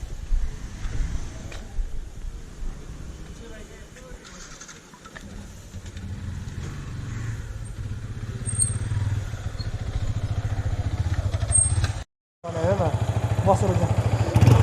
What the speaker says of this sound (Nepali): मेरो बाइक निकालिरहेछ